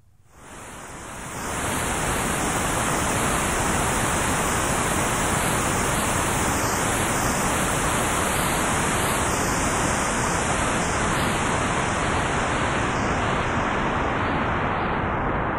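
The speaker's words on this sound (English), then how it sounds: "One type of filter, called a low-pass filter, will modify the white noise according to the variable frequency of the upper cutoff point." Synthesizer white noise through a low-pass filter fades in over the first two seconds, then holds as a loud, steady hiss that resembles surf or wind. There is no talk.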